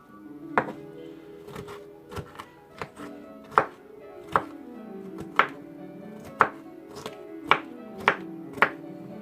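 A knife chops food on a cutting board in a home kitchen while a healthy meal with avocado is prepared; about a dozen sharp, uneven knocks ring out close by in a quiet room.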